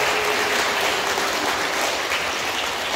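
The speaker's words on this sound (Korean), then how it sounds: "우리 모든 부모님들에게도 박수 부탁드립니다." Steady, dense applause from a congregation at a church retreat concert in Anheung parish fills the space evenly for a few seconds, with no voices.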